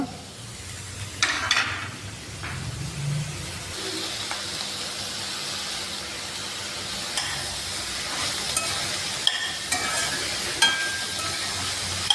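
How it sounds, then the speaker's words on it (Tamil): Small onions sautéing with salt in a pan, a steady soft sizzle broken by scraping stirs and occasional utensil clicks, moderately close with no talking. "இந்த வெங்காயம் வதங்கிறதுக்கு உப்பு சேர்த்துக்கலாங்க"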